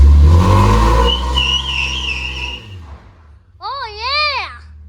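A Toyota Prius with a swapped-in LS V8 engine does a burnout. A loud, deep roar dominates the first couple of seconds, then fades, and excited voices follow.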